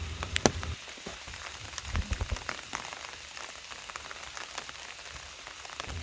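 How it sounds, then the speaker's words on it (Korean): Early autumn rain falls steadily on a high mountain trail, a soft continuous patter of drops with a few sharper close splashes near the start, with no voices. "초가을이 찾아온 한백산에서 시원하게 내리는 가을비를 맞으며"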